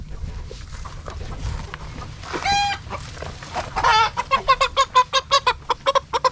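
Chickens cluck nearby, one drawn-out squawk followed by a quick run of rhythmic, repeated clucks over quiet background noise.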